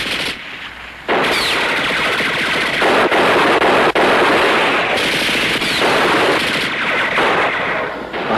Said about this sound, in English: They're pinned down onto the bridge with a machine gun.